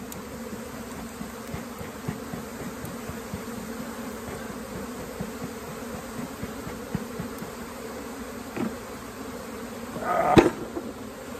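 Honey bees swarm around an open hive with an added deep box, a dense close buzzing drone with individual bees zipping past the microphone, plus a brief clunk of equipment near the end.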